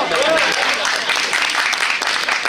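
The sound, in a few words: studio audience applause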